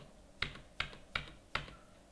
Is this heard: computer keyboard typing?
yes